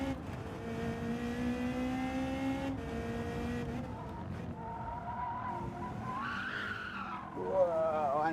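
Race car tires skid and squeal through corners in Gran Turismo 7, long sliding tonal screeches over a constant engine drone, with a rising squeal near the end as a voice talks underneath.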